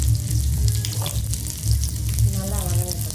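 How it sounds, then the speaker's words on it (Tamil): Onions and garlic fry in hot oil in a pan, a close, uneven crackling sizzle with watery bubbling, while a voice murmurs briefly near the end. "இப்போ வந்து இந்த வெங்காயத்தை இதில் போடுவோம்."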